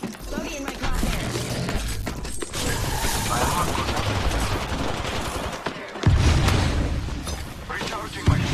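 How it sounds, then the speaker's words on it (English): Dense video game gunfire bursts and mechanical clatter fill the mix continuously, loud and near, with heavier booming impacts, and a voice talking faintly underneath. "I am taking fire."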